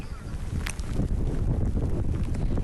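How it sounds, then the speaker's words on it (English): Strong tropical storm wind gusts from Hurricane Ian buffet the microphone outdoors, a continuous heavy low rumbling roar that swells and stays loud throughout. "I definitely have to widen my stance a little more to stay upright in order to kind of handle these wind gusts"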